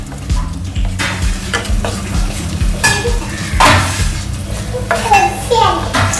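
Raisins fry in hot oil in a pan for chicken biryani, a close crackling sizzle under repeated metal stirring scrapes and clinks of a spoon against the pot, with a voice briefly nearby.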